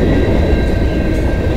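CN freight train M397 passing close by on the Dundas Subdivision near London, Ontario, a loud, continuous roar of wheels and cars rolling past with no talk.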